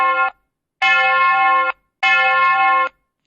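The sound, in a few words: bell being rung in a science experiment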